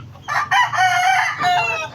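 Chickens cluck and a rooster crows loudly nearby, overlapping calls filling the whole stretch with no talking.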